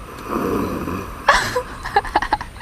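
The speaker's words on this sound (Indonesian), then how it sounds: "Astaga, ngorok lagi." Man snoring loudly while asleep in a rice field, a raspy drawn-out breath followed by a burst of rough, rattling snorts close up.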